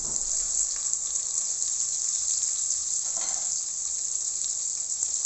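Onions fry in hot oil in a pan, giving off a steady, bright, continuous sizzle close up with no talk over it.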